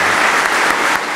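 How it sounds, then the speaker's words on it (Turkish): A crowd at a Turkish commemoration for fallen soldiers applauds a trembling elderly veteran, dense and loud clapping that carries evenly throughout before easing slightly at the end. "Alkışlar mısınız lütfen ona?"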